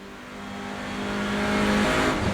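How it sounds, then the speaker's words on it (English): Hyundai Veloster touring car in the iRacing sim, its engine droning steadily and rising slightly in pitch and loudness as it accelerates, a continuous close roar without talk. "Yeah, as I say, the sounds are exactly what you'd expect. They are bang on touring car sounds."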